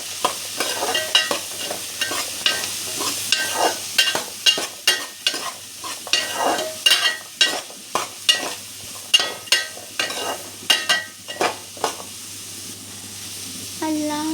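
Prawn roast sautéing in a pan, with rhythmic scraping stirs over a constant low sizzle, each stroke distinct and close.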